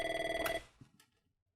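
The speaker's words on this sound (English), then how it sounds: "Phone rings." An office telephone rings with a rapid electronic bell trill for about half a second, then cuts off, followed by faint handling clicks as the receiver is picked up.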